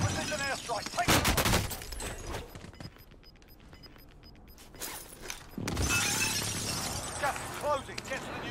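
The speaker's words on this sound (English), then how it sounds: "Enemy precision airstrike." A shooter video game airstrike delivers bursts of heavy explosive blasts and rattling impacts, loud and close, with a quieter lull in between before a second barrage, under voice lines.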